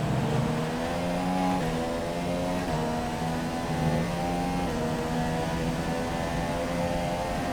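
A Formula 1 race car engine in the F1 2017 game at the Brazil circuit, a loud steady high-revving whine with upshifts and rising pitch across the lap, continuous and close.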